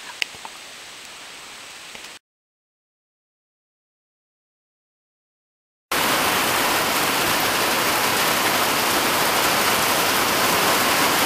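Steady, loud rain on a hilltop shelter on the Appalachian Trail roars as a dense hiss; a softer stretch opens, then a few seconds of dead silence before the downpour returns full and unbroken.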